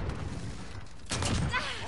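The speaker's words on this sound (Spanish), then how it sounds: "La cantidad de explosiones que está viendo ahora mismo." A brief burst of Call of Duty multiplayer combat: a sudden loud blast and crackling gunfire break in after a second of low rumble, with a voice talking over the action.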